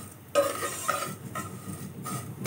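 Dry fruits roasting in a pan over medium heat, with a few close scraping stirs and light rattles against a faint steady sizzle.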